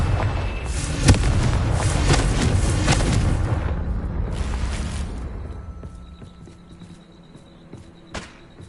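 A Confringo fire spell explodes in Hogwarts Legacy, a loud booming blast with crackling, rumbling burn that gradually fades over several seconds, leaving quieter ambience and a brief thump near the end.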